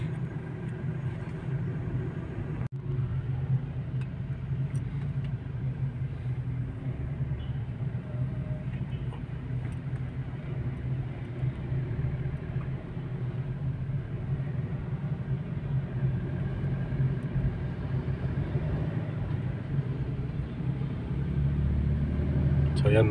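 Road traffic on Julia Vargas Avenue in Pasig at night, heard from inside a moving vehicle as a constant low engine and tyre rumble with a steady drone throughout, and someone talking over it.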